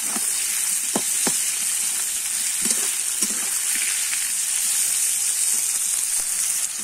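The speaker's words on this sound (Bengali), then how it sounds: "দিয়ে কিন্তু আবার একটু ভালো করে ভেজে নেব।" Potato, onion, slit green chilli and tomato fry in a pan with a steady, loud sizzle, broken by a few soft scraping stirs; no one speaks.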